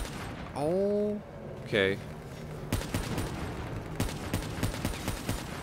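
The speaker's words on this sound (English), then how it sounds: "There's somebody else shooting." Rapid gunfire bursts and scattered shots from the Call of Duty Black Ops 3 campaign ring out through the second half, dense and repeated, following a short spoken word and a synthesized tone.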